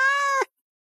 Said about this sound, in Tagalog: Pasaway kang pusa, nangangalmot ka.